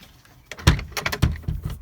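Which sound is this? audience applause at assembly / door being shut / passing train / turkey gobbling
door being shut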